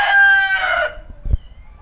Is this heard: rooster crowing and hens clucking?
yes